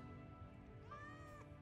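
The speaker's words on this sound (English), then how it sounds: "Meow." A single cat meow in Final Fantasy VII Remake rises and falls over a steady game soundtrack hum, clear but fairly quiet.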